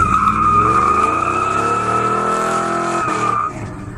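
A car peels out with only one wheel spinning, a loud, steady tire squeal with a sustained high whine and engine roar for about three and a half seconds, then cutting off abruptly.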